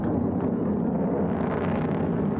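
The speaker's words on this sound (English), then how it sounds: "Liftoff of the Taurus 4 Acromsat mission." A Taurus rocket lifts off on the Acrimsat mission, a sustained, heavy, broadband roar rumbling steadily and evenly throughout with no voices over it.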